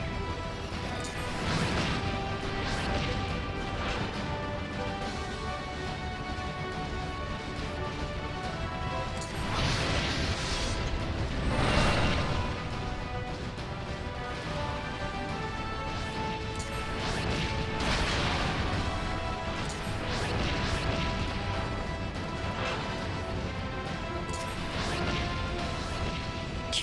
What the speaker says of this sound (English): the cannon does more damage